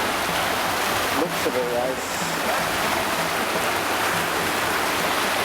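River water in the mountains at Ourika, Morocco, rushing under a wooden bridge, a loud, steady broadband roar filling the whole clip, with a brief spoken word from a person partway through.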